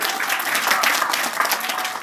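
An audience at a Hindi poetry recital applauds a poet, a dense, even spell of clapping from a crowd at moderate distance, steady throughout.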